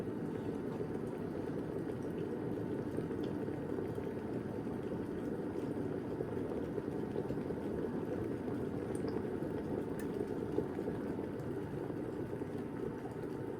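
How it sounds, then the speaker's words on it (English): An electric kettle run from a Jackery 1000 v2 portable power station nears the boil, giving a steady, close, broadband rumble and hiss that holds level throughout with no talking. "the kettle's almost boiled"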